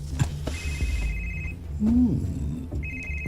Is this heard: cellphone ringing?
yes